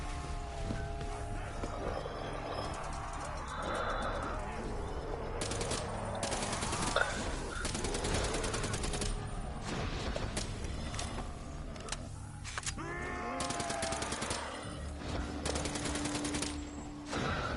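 Assault rifle fire in Call of Duty Black Ops 3 zombies mode, loud bursts of shots repeating over a dense game soundtrack with clattering mechanical effects.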